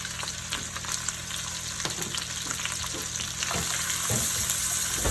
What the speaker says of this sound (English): I have a lot of onions to brown